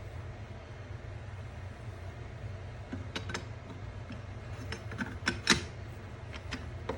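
The lever of a Rossi Rio Bravo Big Loop lever-action rifle seats into the bolt, producing a few sharp, close metallic clicks and a small clack over a quiet low room hum.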